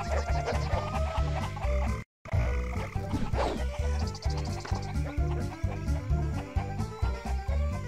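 Chickens cluck repeatedly in the Shrek 2 video game, busy and close over a steady rhythmic music track, with a brief dropout partway through.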